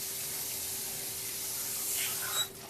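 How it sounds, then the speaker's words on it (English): Running water from a tap hisses and splashes steadily over rice in a strainer, with a brief surge and clatter near the end. "Get the water as high as you can at this point and just give it a quick rinse."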